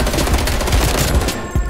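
FAMAS assault rifle firing in Call of Duty Black Ops Cold War, a loud, dense stream of rapid automatic gunfire that runs almost the whole time, with a few sharper bursts and no voices.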